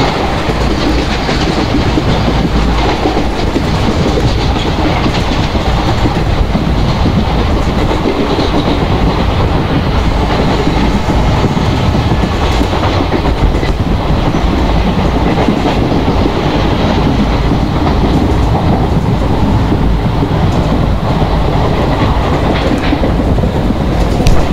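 Passenger train locomotive running on a Bhusaval–Katni route in the MSTS Open Rails simulator, giving a loud, steady rolling rumble with clickety-clack wheel rhythm throughout and no voices.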